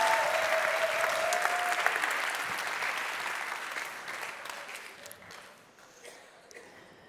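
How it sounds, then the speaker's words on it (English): An awards show audience breaks into warm applause for an honoree, steady crowd clapping that holds for several seconds before gradually tapering off, with no voices over it. "Give her a big applause."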